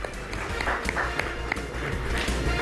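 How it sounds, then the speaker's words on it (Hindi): Loud audience applause fills a quiz show hall, a dense, steady clatter of many hands clapping with a few brief voices or shouts mixed in. "तो जोरदार तालियां हो जाएं"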